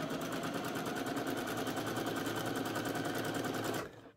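A sewing machine running a straight stitch along a bodice seam, a fast, even mechanical clatter close by that holds steady for about four seconds, then stops abruptly.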